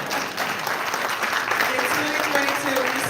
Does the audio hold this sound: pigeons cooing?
no